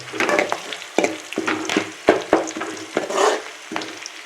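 Curry leaves for tempering fry in hot oil in a home kitchen, giving a busy crackling sizzle broken by repeated sharp spits and pops in an uneven rhythm, close and fairly loud, with no talking.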